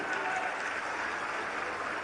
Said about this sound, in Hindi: ताली बजाने में क्या कंजूसी करना है?